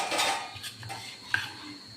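A utensil scrapes and clinks against a bowl while Surati locho batter is stirred, with soft wet mixing sounds and one sharp tap near the end.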